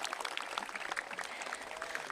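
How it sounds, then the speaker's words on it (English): Applause from a crowd at a youth football event with Toronto FC and Toronto Argonauts, steady scattered clapping at moderate distance, fairly faint and sustained without talk. "Everyone give yourselves a round of applause."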